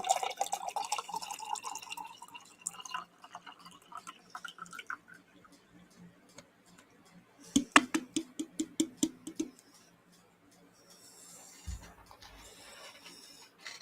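Boston tea poured from a freshly opened can, with irregular splashes and drips, a burst of gurgling glugs in the middle, then quieter handling sounds toward the end.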